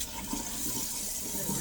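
Water running from a kitchen tap into a double sink while a turnip is rinsed, a steady close splashing rush filling the whole short stretch.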